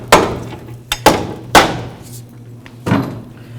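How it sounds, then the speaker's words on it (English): Four sharp, loud strikes from a rubber mallet on the front wheel hub of a 2003–2009 Toyota 4Runner, spaced irregularly, each with a brief ringing decay and a faint hum underneath. "So now I'm just going to take my rubber mallet."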